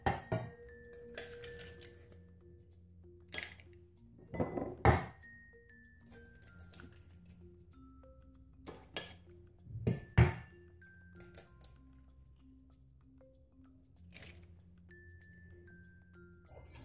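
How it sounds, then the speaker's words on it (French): Eggs cracked into a bowl while making a soft chocolate and speculoos cake: a few sharp clinks of shell against the rim, each followed by soft splatting, with kitchen clatter and background music in between. "je casse mes œufs"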